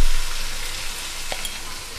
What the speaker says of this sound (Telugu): సో ఒక్కసారి ఇలా కలిపేసుకుని ఇది ఫ్రై అయిపోతూ ఉంటుంది